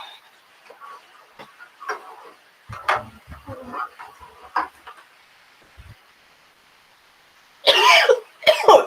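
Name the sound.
person coughing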